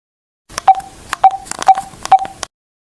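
Telephone keypad dialing, four distinct DTMF tone beeps spaced about half a second apart with small clicks between, loud and close, no voices.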